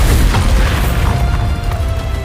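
A Bombarda explosion spell in Hogwarts Legacy booms loudly and close, a dense rumbling blast that lingers through the whole moment.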